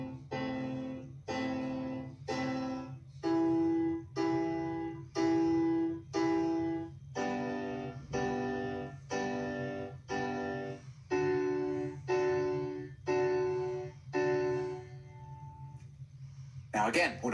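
Simple piano playing with two fingers plus one added finger repeats short, evenly spaced notes and dyads in a steady rhythm, moderately soft and close, with a faint low hum underneath and no speech.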